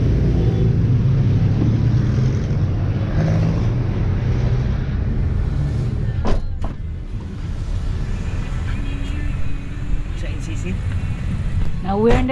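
Steady low engine rumble and road noise from inside a taxi in Davao City, continuous throughout with a few brief clicks and knocks, no talk over it.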